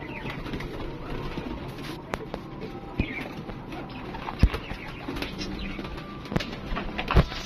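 Flying pigeons kept in a Lahore loft coo faintly amid rustling, fluttering and scattered taps, with a low steady background and no clear talk.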